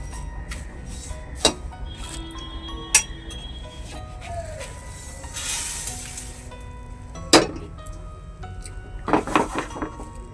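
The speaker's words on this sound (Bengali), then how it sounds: "যেহেতু চিড়ের পরিমাণটা অনেকটাই, তাই অল্প অল্প করেই ভেজে নেওয়া হচ্ছে" Flattened rice (chire) frying in a pan, crackling and sizzling steadily up close, with a few sharp metallic clinks and scrapes of a utensil against the pan.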